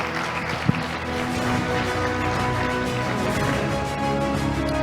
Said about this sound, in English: Team S5, give them a big round of applause